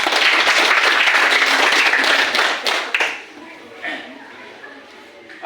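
Students in a classroom clap together in a loud burst of applause lasting about three seconds, then it dies away to a few scattered claps and quiet room noise.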